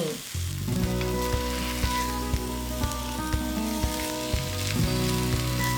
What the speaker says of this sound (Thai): เราอยากได้ความหอมของเนยของกระทะนะคะ เดี๋ยวเราก็เลยเอามา ย่างบนเตาเนาะ